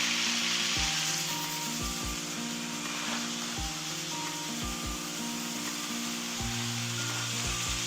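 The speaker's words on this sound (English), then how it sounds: "Allow it to be seared" Chicken breast searing in a hot frying pan gives a steady, loud sizzle with occasional low knocks and scrapes from the pan or utensil, and no voices.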